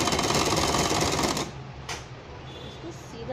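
A sewing machine runs steadily for about a second and a half while stitching along the hem of a cloth handkerchief, then cuts off, leaving only faint room sound and a brief rustle.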